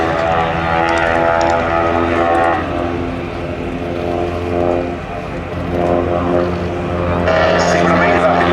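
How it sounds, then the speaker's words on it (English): A Harvard propeller trainer at the Duxford Battle of Britain airshow drones past with a rough, buzzing radial engine, loud and sustained and swelling slightly as it rounds the course, while a commentator talks over it. "That's the aircraft leading these two round the corner at the motorway end."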